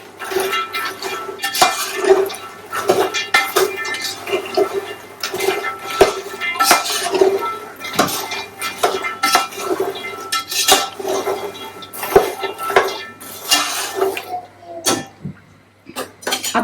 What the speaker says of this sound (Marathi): आता मसाला पूर्ण परततो.